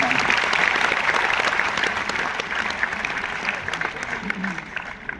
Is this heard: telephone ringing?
no